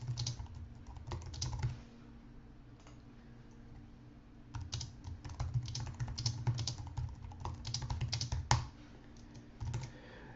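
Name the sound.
typing on a computer keyboard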